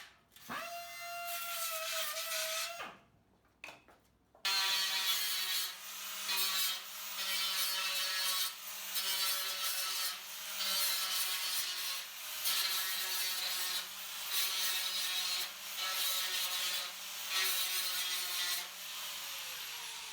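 Rhythmic rasping strokes of a hand file working the cut edges of a metal 18-litre square can being made into a DIY fire pit, steady repeated scrapes close by with no voices.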